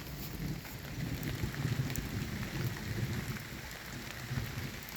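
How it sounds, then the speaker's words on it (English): Steady rain falls outdoors in a forest garden as a storm approaches, a dense close hiss of drops on surfaces with a faint low rumble beneath, no voices. "it's already raining before the storm really gets here"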